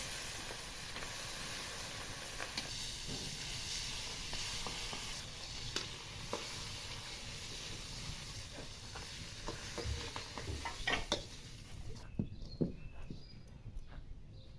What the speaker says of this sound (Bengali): এই যে কড়াইতে মাছের মাথা দিছি, মাছের মাথা দিয়ে শুকোত রান্না করব।